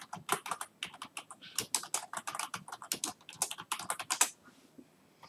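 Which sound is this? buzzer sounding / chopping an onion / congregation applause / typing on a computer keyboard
typing on a computer keyboard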